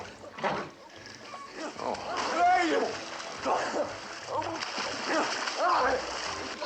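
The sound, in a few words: cold water splashed on a man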